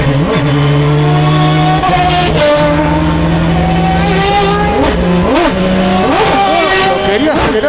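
Turismo Carretera race car engines at Viedma whine at high pitch, rising and falling as they accelerate and shift, loud and continuous with overlapping passes.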